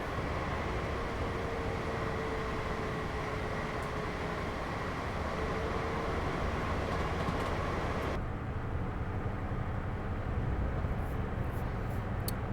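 An HST train in LNER livery running in Train Simulator 20, a loud, continuous rail rumble and engine drone that shifts in tone partway through.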